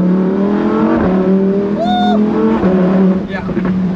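A Lamborghini Performante Spyder in Corsa mode accelerates hard with a loud, steady engine roar close by, broken by sharp, abrupt jolts of violent gear shifts; a brief voice cuts in partway through.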